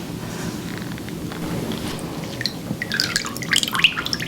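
Water drips from a washcloth into a small bowl during a skincare routine: light, close trickles and splashes over a low, steady background hum, growing busier toward the end.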